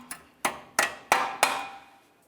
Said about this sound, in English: Slide that cotter pin through and then peen over the ears so there's no way this nut can loosen up on you.